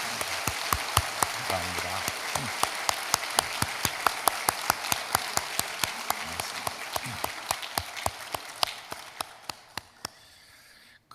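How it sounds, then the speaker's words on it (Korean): A church congregation applauds to welcome the choir: dense clapping with sharp individual claps that gradually thins and fades, and a voice speaks briefly over it. "뜨거운 박수로 저분들을 환영하도록 하겠습니다."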